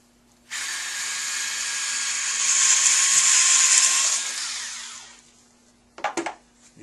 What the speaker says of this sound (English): we're going to drill a hole down the tibial canal